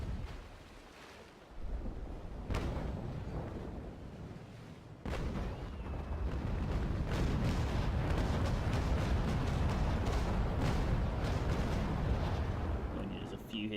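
Broadside cannon fire from sailing warships in a naval battle game, with a few heavy booms early, then a sustained rumbling roll of loud, overlapping shots that builds and holds to the end.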